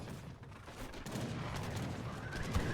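Howitzer artillery fire in Age of Empires III during a large team battle, heard as a dense, continuous wash of overlapping booms and gunfire at steady moderate loudness, with one slightly stronger hit near the end.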